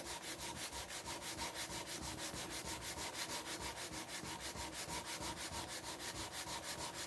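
A ukulele part is sanded by hand with sandpaper in quick, even back-and-forth strokes, a rhythmic rasping scrub of roughly three strokes per second, close and steady throughout with no talking.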